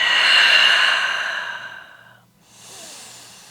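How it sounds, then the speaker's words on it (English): A person exhales slowly during a beginner vinyasa yoga flow, a long breathy sigh out that fades over about two seconds, followed by a softer, quieter breath. "Breathe out."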